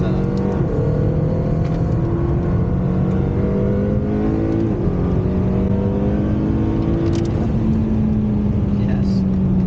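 A McLaren Speedtail pulls hard around a race track from inside the cabin, engine pitch climbing through several gear changes in a loud continuous drone while people talk over it.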